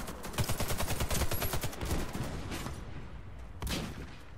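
Automatic gunfire in the video game Warface crackles in rapid, loud bursts early on, then thins to scattered shots with a sharp single report near the end.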